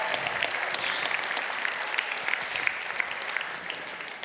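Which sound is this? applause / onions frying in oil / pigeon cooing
applause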